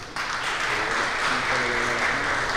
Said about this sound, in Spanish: pedimos un aplauso